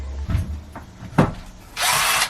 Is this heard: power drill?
yes